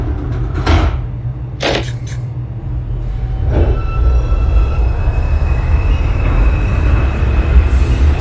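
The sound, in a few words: NYC Subway R142 train running, from OpenBVE train simulator game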